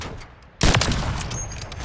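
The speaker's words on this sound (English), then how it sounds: "They're shooting at me." In Call of Duty, a sudden loud burst of gunfire is aimed at the player, followed by a sustained crackling volley of shots and echoes.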